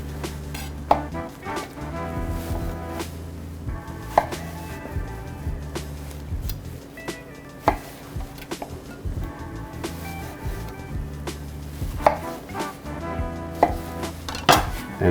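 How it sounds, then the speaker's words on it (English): A knife quarters peeled tomatoes on a cutting board, giving sharp irregular thunks and taps up close with faint clinks of kitchenware between cuts. "I got the skins off of my tomatoes. I need to get the seeds out. I'm just gonna quarter them."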